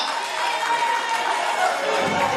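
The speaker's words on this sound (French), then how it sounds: "Applaudissez les gens de Leeds, vous êtes là." A crowd at a Guinean independence anniversary celebration in Manchester applauds and cheers, a steady wash of clapping and voices throughout.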